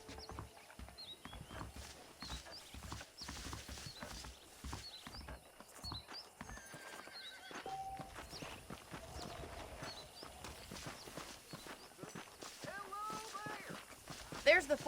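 A horse in the Western video game Red Dead Redemption clip-clops along at a walk, hooves thudding steadily, with a brief whinny near the end, beneath characters talking throughout.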